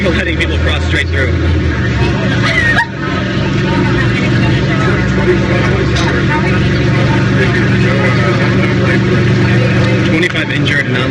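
New York City street traffic after an explosion in September 2016, a dense constant rumble of cars and engines close by, with people talking over the steady roar throughout.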